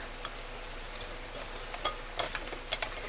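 Radishes tossed with lemon juice in a bowl, a few soft scrapes and light clicks from the spoon over a quiet steady background, faint and close.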